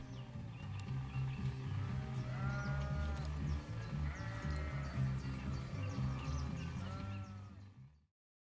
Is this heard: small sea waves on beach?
no